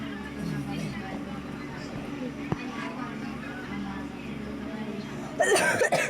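A person coughs once or twice in a quiet room with a low background hum; the clearest cough is a short burst near the end.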